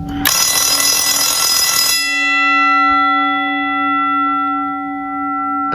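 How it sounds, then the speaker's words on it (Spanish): A school bell, switched on and off by an adapted timer, rings loud and continuous for about two seconds, then cuts off, leaving a steady electrical hum and a ringing tone. "Accionó los contactos, apagó el timbre."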